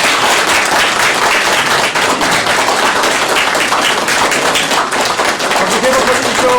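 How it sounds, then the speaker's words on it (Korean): An audience at a civic briefing event claps loudly and continuously in a dense, sustained wash of applause close to the microphone, not in distinct separate beats. "박수 세번 쳐주십시오."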